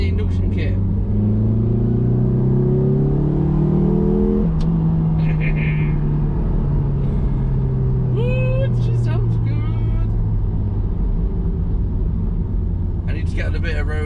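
A Toyota MR2 fitted with an induction kit built from scrap parts revs up loudly in a rising drone, drops back, then pulls away with a long falling engine note, with voices speaking briefly over it.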